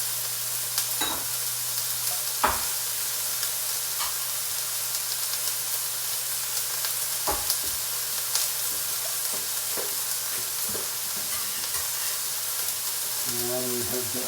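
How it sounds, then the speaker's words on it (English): Zucchini and peppers sauté for ratatouille in a hot pan, giving a steady close sizzle and hiss with occasional stirring clicks and scrapes, no talk. "we have our vegetables for the ratatouille as well, sautéing."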